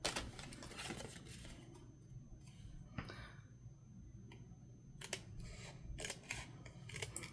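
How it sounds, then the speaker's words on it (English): Scissors snipping at an angle through a paper envelope, a string of crisp sharp cuts in irregular bursts with quieter handling between, close and fairly faint. "Just cutting that at an angle."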